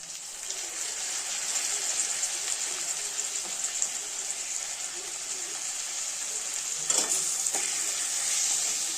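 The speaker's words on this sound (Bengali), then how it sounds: "ব্রোকলিটা ভাজা করা হয়ে গেছে" Steady close sizzle of broccoli frying in a pan, with occasional scraping stirs and a brief clatter near the end.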